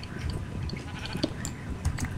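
Sheep bleat in the Minecraft video game, a few short nasal calls over a low background murmur, close and moderately loud.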